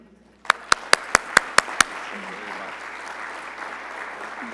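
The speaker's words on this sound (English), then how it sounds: "Please give a round of applause to John Lemley" At a World Chamber of Commerce event at Atlanta Airport, a close person claps seven crisp, evenly timed claps over a swelling wash of audience applause that continues steadily after the claps stop.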